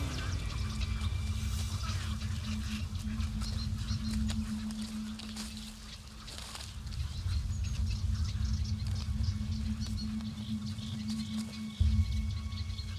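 Purple heron chicks squabbling in a riverside colony on the Guadalquivir, a busy mix of harsh calls and honking cries over a steady low drone, with bursts of louder squawks throughout.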